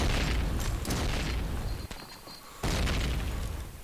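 Grenade explosions in the Call of Duty: United Offensive PC game during a competitive match, several heavy booms in quick succession with sharp bursts and rumbling tails, loud and close.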